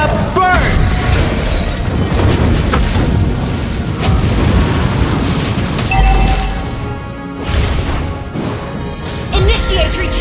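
Valir casting Lava Burst in Mobile Legends: Bang Bang, a fiery spell that explodes in loud, heavy booming crashes amid continuous battle effects, with a character voice calling out over the impacts.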